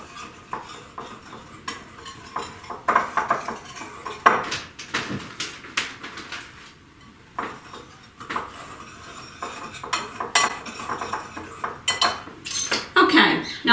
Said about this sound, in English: with my handy dandy whisk, I'm just going to blend that all together